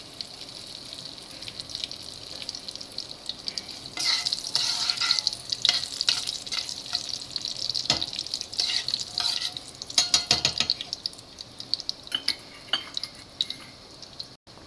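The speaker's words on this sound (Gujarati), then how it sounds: "તડકો દેવા માટે આપણે તેલ અને બટર મૂકી દીધું છે. એમાં જીરું એડ કરી દીધું છે." Cumin seeds and whole dried red chillies sizzle in hot oil and butter for a dal tempering, a steady close frying hiss that swells midway with stirring and faint utensil clinks, no voices.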